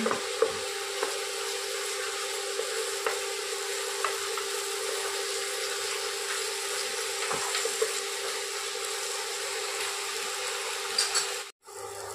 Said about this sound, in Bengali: 20 থেকে 30 সেকেন্ড এটাকে ভাজতে হবে।